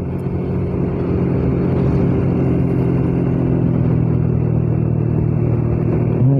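Motorcycle engine humming steadily while riding slowly through a rural village road near Banjarmasin, a close, continuous low drone with gentle pitch changes and no talking.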